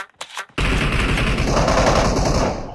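Gunfire in the battle royale game PUBG: a loud, sustained burst of rapid automatic shots begins abruptly after a few faint clicks and keeps hammering close by until the end.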